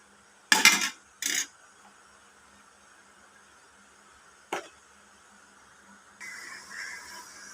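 A pot lid clatters twice onto a pot of chicken feet adobo simmering in turmeric and coconut milk. One faint knock follows, then a soft steady bubbling hiss from the covered pot.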